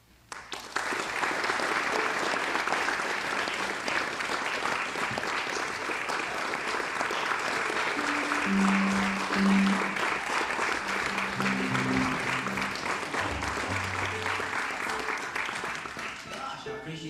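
An audience at a 1988 gathering breaks into sustained applause to welcome Larry Sledge, a loud, continuous roar of clapping lasting many seconds with some murmured voices and a faint tone mixed underneath.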